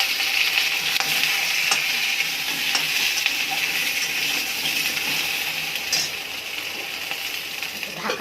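Papaya, taro and potato fry in a pan with a loud, steady, close sizzle that hisses continuously and eases off slightly toward the end, with faint stirring clinks.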